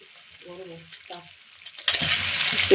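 Stick noodles stir-fried with lightly fried onion, chopped tomato and the noodle spice mix; after a quiet moment with a few soft clinks, a loud, steady sizzle suddenly bursts up close and keeps going.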